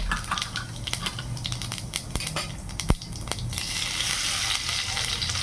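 Cumin seeds crackle and sizzle in hot oil in a kadhai, a steady fry hiss with sharp pops and ticks scattered throughout, close and alone with no voices.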